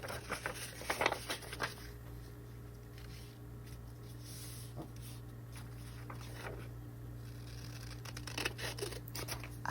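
Scissors cutting a thick, textured tan sheet of pastel paper, repeated close crisp snips in irregular bursts over a soft background hum, with no speech.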